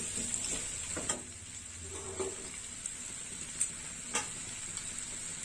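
Boiled mung dal is tipped into taro frying in a pan, giving a steady bright sizzle broken by a few clinks and scrapes as the mixture is stirred. No one talks.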